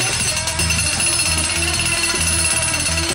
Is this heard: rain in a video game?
no